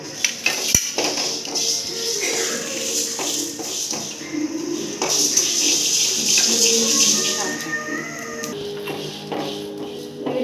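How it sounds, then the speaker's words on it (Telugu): Coriander seeds, cinnamon and cloves roasting in a pan for a country chicken curry, with a metal spoon clinking and scraping against the pan in close, irregular strokes while someone talks nearby. "ఫస్ట్ ధనియా వేసుకున్నాము అందులోని చెక్క లవంగాలు వేసి వేయించుకుందాము"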